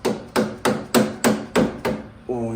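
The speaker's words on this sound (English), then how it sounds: "take a dead blow. Just kind of tap that in." Dead blow hammer tapping a part into a Shovelhead motorcycle engine build, with seven evenly spaced sharp knocks close up, followed by a brief tonal scrape at the end, and no voices.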